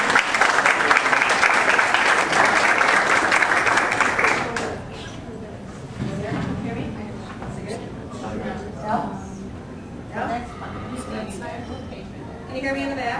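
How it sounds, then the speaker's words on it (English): Audience applause for speaker Meaghan McCann, loud dense clapping from a crowd for about four seconds, then fading into scattered murmurs, shuffling and chatter. "let's give her a big round of applause"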